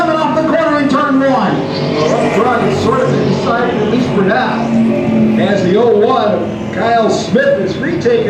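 Street stock race cars roar around a short oval track at Coastal Plains Raceway, engines droning loudly and steadily as cars slide sideways in traffic, with a commentator talking excitedly over the noise.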